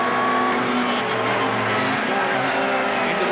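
Touring race cars from the 1990 British Touring Car Championship accelerate hard down a straight, a dense, continuous engine roar that stays loud and steady throughout with no voices.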